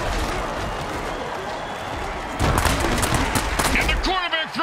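Roaring stadium crowd in an American football video game, a steady wash of cheering noise that swells louder midway, with commentary voices talking over it.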